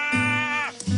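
A voice gives a single short, nasal bleat imitating a deer, wavering and close, lasting under a second.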